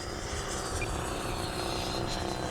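Legend Hobby Seagull Shock Cub RC model airplane flying in about a 10 mph wind, a steady buzzing electric motor drone heard from a moderate distance, unbroken for the whole stretch with no talk.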